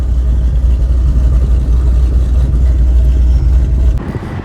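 A Ford Shelby GT500 idles after a cold start, a steady low engine rumble with a deep, even drone, close and fairly loud, easing slightly near the end.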